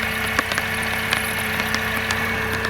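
A Mercedes C180 W203 with the supercharged M271 Kompressor engine idles after a head gasket replacement, giving a steady, even hum with faint ticking and a few sharper clicks scattered over it, heard close and without voices.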